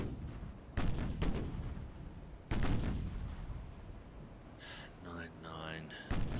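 Heavy naval guns fire in the Ultimate Admiral: Dreadnoughts warship game, three booming shots spaced a second or two apart with rumbling tails, while a voice speaks in between.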